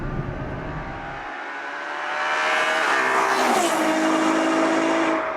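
Ferrari FF accelerating hard, a loud engine roar rising in pitch through the gears with a brief lull before the revs build again, sustained and close with no talking.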